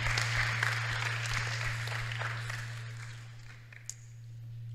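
A church congregation applauds, a soft spread of clapping that tapers off, over a constant low electrical hum.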